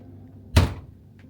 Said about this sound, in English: It's magnetic, so it makes opening the door and closing the door very easy.